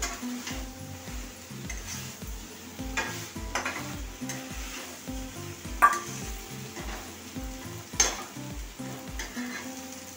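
Soybean chunks and potatoes frying in a spiced pan, a low steady sizzle broken by rhythmic scraping and stirring strokes, with a couple of sharp utensil clinks; no talking.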